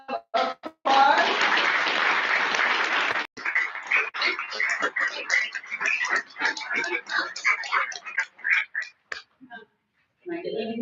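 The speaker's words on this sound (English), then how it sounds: "So a big round of applause." Audience at a school board meeting gives a short burst of applause for students, about two seconds of dense clapping that stops abruptly, followed by scattered voices and chatter in the room.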